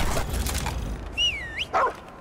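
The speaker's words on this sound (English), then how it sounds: "I want my dog. Do I hear him right behind me?" A companion dog belonging to the Handler class in the video game Remnant 2 barks and yips several times close by, with short whimpering, whining calls in between.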